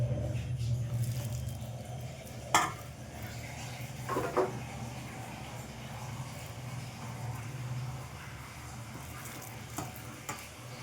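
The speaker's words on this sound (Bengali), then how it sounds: "এবার অল্প অল্প করে আমি দিয়ে দিচ্ছি তেলের মধ্যে" Gondho bhadali leaf fritters sizzle steadily in hot oil, a continuous low frying hiss with a few sharp clinks and stirring knocks against the pan.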